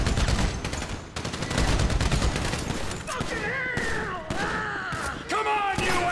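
Dense gunfire from GTA 5 rattles in rapid overlapping bursts, then thins into scattered shots, while voices call out over the firing in the later seconds.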